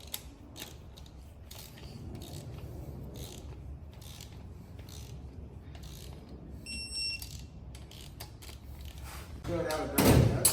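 Parts on a Nissan GT-R VR38DETT engine are torqued down in a workshop, with repeated close ratcheting clicks from a wrench and a brief beeping tone midway, while a person speaks.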